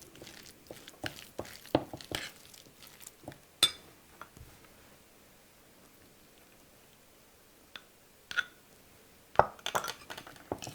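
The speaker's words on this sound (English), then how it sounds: "let's mix it all up." Guacamole ingredients, including jalapeños, stirred and mixed in a bowl, giving scattered clinks and scrapes of a utensil against the dish in irregular bursts, close and fairly quiet with pauses between.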